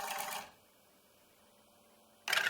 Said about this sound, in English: This geared drive is from an old printer and it has a 12V motor.